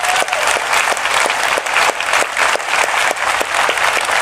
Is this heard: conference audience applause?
yes